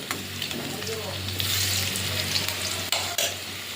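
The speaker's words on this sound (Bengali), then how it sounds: "এই যে লাল লাল করে আলুগুলো ভেজে নিয়েছি, এবারে তুলে নেব।" Potatoes fry in hot oil in a wok: a continuous close sizzle with scraping and stirring sounds, and no talking.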